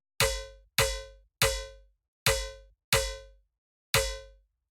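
A pitched-down metallic snare, dry with no added effects, struck six times alone in an uneven rhythm, each hit ringing with a bright clangy tone and decaying over about half a second.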